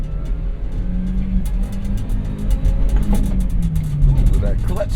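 A Japanese Kei truck's small engine drones steadily from inside the cab while driving, its pitch climbing as it accelerates partway through, with road rumble underneath.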